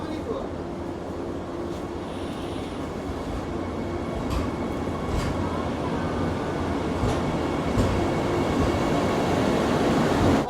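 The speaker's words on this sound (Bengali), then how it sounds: "ট্রেন ছেড়ে দিল নিউ জলপাইগুড়ি থেকে কামাখ্যার উদ্দেশ্যে" A train pulls out of New Jalpaiguri station bound for Kamakhya, giving a steady rolling rumble with a few sharp clanks and metallic knocks along the way, fairly loud and continuous with no talk over it.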